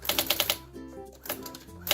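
A Brother AX-250 electronic typewriter types onto paper: a quick burst of sharp, close strikes, a brief pause with a soft mechanical whir, then a few more keystrokes.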